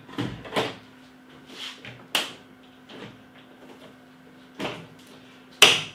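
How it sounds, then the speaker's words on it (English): A few scattered knocks and thuds with a sliding scrape as a beer keg is slid into a Philips Perfect Draft machine, over a steady low mechanical hum. "And then you grab hold of your keg. Slide it over"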